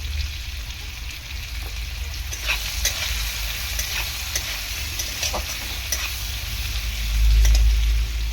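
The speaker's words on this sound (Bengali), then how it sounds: "লবণ দিয়ে একটু নাড়াচাড়া করে নেব।" Greens with salt being stirred in a frying pan, a steady soft sizzle with scraping stir strokes throughout, close and alone, swelling louder near the end.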